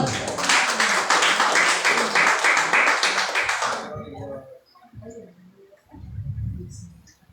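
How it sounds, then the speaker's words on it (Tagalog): A church congregation at Sunday worship claps together loudly for about four seconds; the applause then stops abruptly, leaving quiet room sound and a few faint voices. "Palakpak mo natin ang Panginoon"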